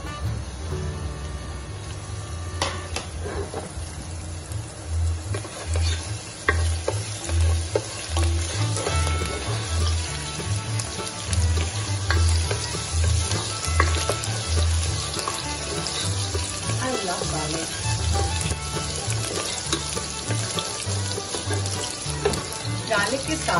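Garlic sizzling steadily in hot refined oil, a dense continuous fry with faint stirring scrapes throughout, loud and close, with no voice over it.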